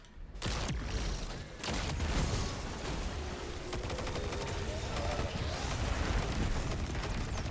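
Dense, continuous combat noise from the video game Destiny during a fight with a Minotaur enemy: a loud blast near the start and another around a second and a half, over sustained rapid gunfire-like crackle, with no speech.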